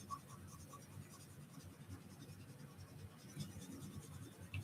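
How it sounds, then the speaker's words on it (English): Pencil-line erasing during an Easter egg pot craft: a quiet, steady scratchy rubbing that continues with small rhythmic strokes, soft and close. "I'm just going to erase this line and make it a little rounder like that one."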